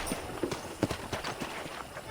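A horse's hooves clip-clop at a walk on a ranch in Red Dead Redemption, a steady, fairly close beat of hoof strikes over a soft background hum.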